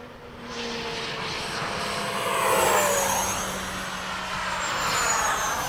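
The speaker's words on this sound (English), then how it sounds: "I'll make a fast pass too. Doing one right now over the runway." A Freewing 90mm F-15 RC ducted-fan jet makes a fast pass over the runway: a loud, rising then fading turbine-like whoosh that swells as it passes close and trails off.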